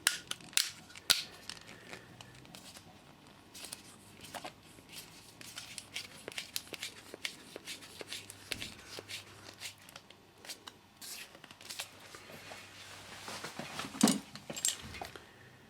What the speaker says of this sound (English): So I'll just attach the nozzle now to the cartridge.